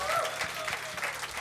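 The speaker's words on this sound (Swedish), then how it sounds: "Applåder!" Audience clapping at a web awards ceremony intro, a moderate, fairly steady patter of many hands in a hall, with a speaking voice also present over it.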